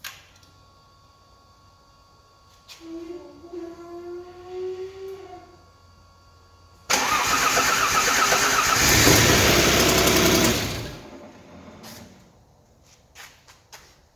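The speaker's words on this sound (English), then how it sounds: "And there we go, it started, but I think we got an exhaust leak on it from one of those seals" An Alfa Romeo GTV under restoration, with a suspected exhaust leak at the seals, cranks and fires after a quiet stretch, then runs loud and rough at idle for a few seconds before the sound tapers off.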